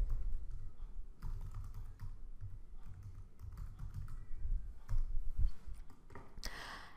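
Someone types search terms on a computer keyboard in bursts of quick key clicks, separated by brief pauses, close and fairly quiet.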